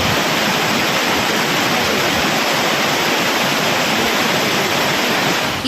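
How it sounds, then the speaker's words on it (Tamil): Courtallam waterfalls in heavy flood after rain in the Western Ghats, a loud, dense, unbroken roar of rushing water that holds steady throughout with no voices. "மேற்கு தொடர்ச்சி மலைப்பகுதிகளில் பெய்த மழையால் குற்றால அருவிகளில் கடும் வெள்ளப்பெருக்கு ஏற்பட்டதால் சுற்றுலா பயணிகள் குளிக்க தடை விதிக்கப்பட்டது"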